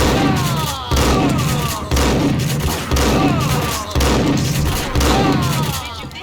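Gunfire in Max Payne, six bursts of rapid loud shots about a second apart, each with a booming thud and ringing tail.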